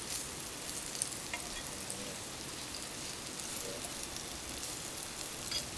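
Onion and pepper sautéing in a pan over an outdoor fire in a Jamaican jungle, a steady soft sizzle and crackle running throughout with no talk.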